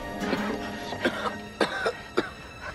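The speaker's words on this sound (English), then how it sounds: "Okay, cough it up." A person pulled from the water during a beach lifeguard rescue coughs harshly several times, in spaced, ragged bursts with throat-clearing over a steady background noise.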